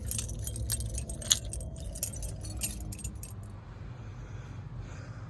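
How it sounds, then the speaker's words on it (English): Car keys jangle close up for a few seconds while a Chevy is started, and then a low, steady engine rumble continues quietly. "Anyway, I'm gonna start this car."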